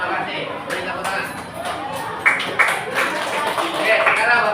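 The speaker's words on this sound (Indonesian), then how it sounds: "Beri tepuk tangan." Students in a classroom give a round of applause, scattered claps starting sparse and growing into brief, moderately loud clapping amid room murmur.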